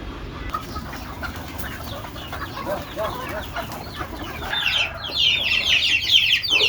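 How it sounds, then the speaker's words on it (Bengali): Native hens clucking and chirping as they are let out near an 11-day-old brood of chicks. Overlapping bird calls grow busier and louder toward the end, with no talk. "এখন মুরগি ছাড়বে।"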